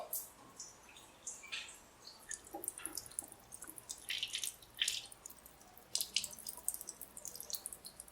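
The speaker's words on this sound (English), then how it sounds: "there's clear water draining out of the hose onto the ground though" Clear water drips and trickles from a hose on an abandoned 1962 AMC Rambler engine onto the ground, with irregular splashy drips close by over a quiet background.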